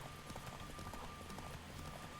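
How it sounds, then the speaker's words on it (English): Horse hooves clip-clop in a steady galloping rhythm in a video game, quiet and even throughout, with no talking over them. "I'm amazed how far I've been able to run with this horse, by the way."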